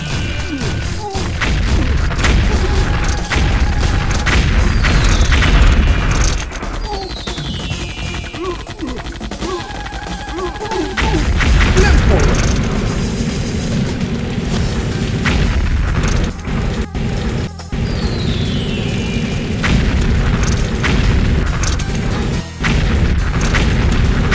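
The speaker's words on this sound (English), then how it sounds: "shotgun, machine gun." Shotgun and machine gun fire in the game Blip and Blop, with heavy booming blasts and crashes layered over continuous loud game sound, dense and chaotic throughout.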